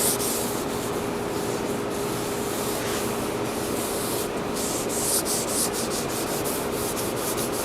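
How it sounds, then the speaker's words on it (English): A cloth rubs natural wood stain onto a cork board's wooden frame, making a continuous close scrubbing swish with quick rhythmic strokes toward the end. "I'm just going to put some natural stain on this"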